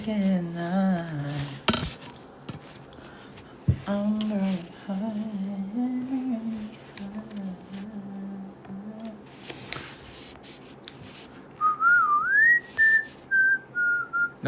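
A person whistles a wavering melody, with a low hummed-sounding tune at first and then higher sliding whistled phrases near the end, close and fairly loud with occasional clatter.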